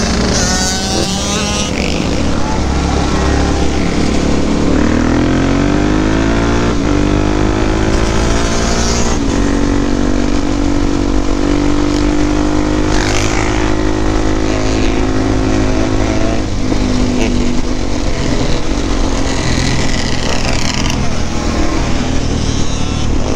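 A 450 dirt bike engine runs loud and close, its tone climbing and wavering as the throttle is worked, a steady continuous roar with shifting pitch and no speech over it.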